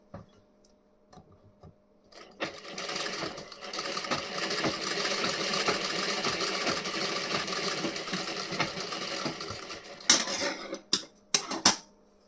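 A sewing machine runs in a steady, fast continuous stitching whir for several seconds while a blouse front piece is sewn, preceded by faint handling noises and followed by a few sharp clicks and knocks as it stops.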